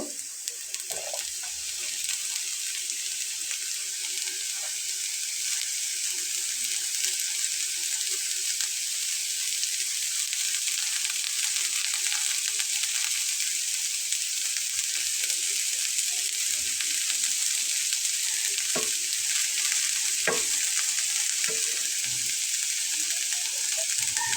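Cabbage being stirred and mixed with spices in a hot pan for Bengali cabbage chops, a steady bright sizzle running alone throughout with a few soft scrapes and knocks.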